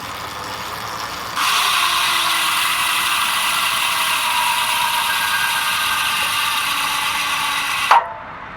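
A bicycle freehub with a 36-tooth ratchet spins inside deep-section 88 wheels, giving a loud, continuous rapid buzzing clatter that runs steadily for several seconds and then stops abruptly, with no talk.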